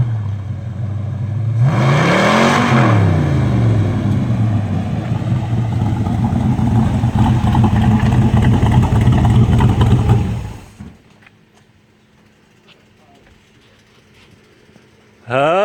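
A 1967 Corvette with a freshly rebuilt 502 big-block V8 approaches and runs loud and steady for about ten seconds, revving once early on, then cuts off, leaving near silence before a brief burst at the end.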